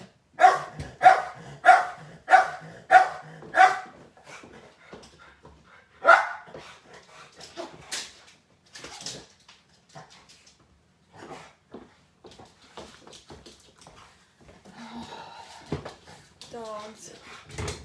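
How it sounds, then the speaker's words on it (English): Dogs bark in a quick run of about six loud, close barks, followed by scattered single barks and soft whimpers, with a voice heard intermittently. "Dogs, y'all, they drive me bananas."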